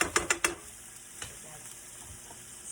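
A tablespoon of garlic sizzles in a hot frying pan with a steady crackling hiss, after a few quick clanks of a utensil against the pan at the start.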